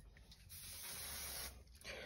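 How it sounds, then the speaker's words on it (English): A steady hiss of an aerosol spray glue, one continuous burst of about a second, then a shorter second burst, close by. "we're going to mount this with a little bit of spray glue"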